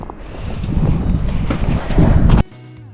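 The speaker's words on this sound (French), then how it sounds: "il y a tellement de vent" Strong wind in Finland gusting and buffeting the microphone in a continuous roar, then cutting off abruptly near the end.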